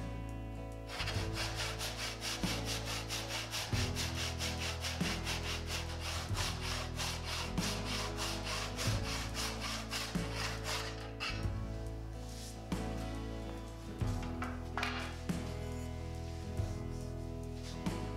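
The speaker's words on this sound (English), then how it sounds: "I make sure to keep the saw snug against the straight edge, and once I've established a nice deep saw curve, I can remove the straight edge and finish the cut." Hand saw cutting a 45-degree miter in wood for bridle joinery, producing a steady run of rhythmic rasping back-and-forth strokes, close and loud, with no talking.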